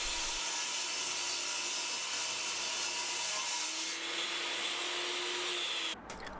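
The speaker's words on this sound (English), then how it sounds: "Cut a slit down one side and then flip the block round and cut a slit down the other side." A saw cuts a slit into a wooden block, producing a continuous loud rasping whir that holds steady for about six seconds, then drops off abruptly near the end.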